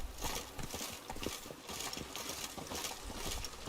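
Hooves of Roach, a horse in The Witcher 3: Wild Hunt's Blood and Wine, clip-clop in a steady walking rhythm over a dense ambient bed, fairly close.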